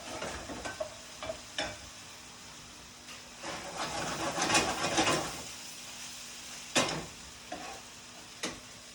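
Risotto with wine sautés in a pan as it's stirred, soft sizzling under scattered scraping clicks of the spoon, fairly quiet and close.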